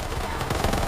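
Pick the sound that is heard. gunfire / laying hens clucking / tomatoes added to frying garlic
gunfire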